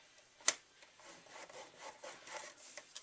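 A scoring tool is drawn across a paper card panel in a series of faint, soft rubbing strokes, with one sharper tap near the start. It is quiet and close, with no talking.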